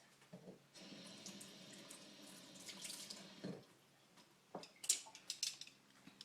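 Pork ribs rinsed under a running kitchen tap, water splashing steadily into the sink for several seconds, with brief clatters and faint handling sounds near the end.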